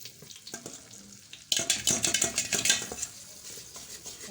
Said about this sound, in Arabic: حمرها لحد ما الدقيق يغلى في الزيت، يغلى في الدقيق كله